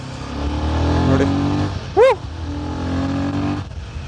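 A Royal Enfield Himalayan 450 adventure motorcycle engine revs with a steady, close droning note, a brief rising burst near the midpoint, then a continued drone.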